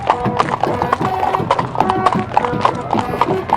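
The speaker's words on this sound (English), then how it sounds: "The horses, decked in ornaments, each step of their thunderous hooves, a dance of pride and history." Ornamented horses in a durbar procession clip-clop in a quick, uneven patter of hooves, close and busy, with a horse neighing and crowd voices mixed in.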